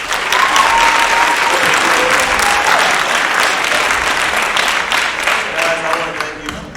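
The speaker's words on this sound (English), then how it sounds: "Let's give these guys one big round of applause." Audience applause after a 7-on-7 gridiron football event, loud and sustained clapping from a crowd for nearly seven seconds, slowly thinning toward the end.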